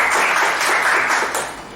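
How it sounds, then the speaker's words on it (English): Audience applause at a Toastmasters club meeting: a steady, dense wash of many hands clapping that stays loud throughout, then begins to thin and fade toward the end, with no talking over it. "Another round of applause for Toastmaster Guang."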